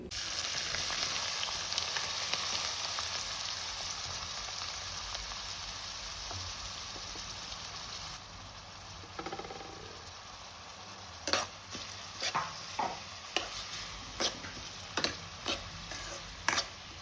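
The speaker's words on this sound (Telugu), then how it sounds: "ఇంకా నేను ఉల్లిపాయ ముక్కలు అయితే వేసుకుంటున్నాను." Onion pieces frying in a little oil for chicken curry: a steady loud sizzle that quiets partway through, followed by a run of spaced clinks and scrapes of a spoon in the pan.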